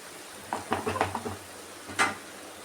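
A spoon stirs spinach curry in a pan: a quiet run of quick scraping, sizzling strokes, then a pause and one more stroke, faint and close over a low hum.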